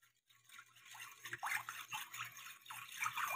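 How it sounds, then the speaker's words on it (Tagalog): Water trickles into a teriyaki sauce mixture for sweet tofu, a soft, bright splashing pour starting after a quiet moment and continuing unevenly with brief surges, with no talking. "Tapos, konting tubig."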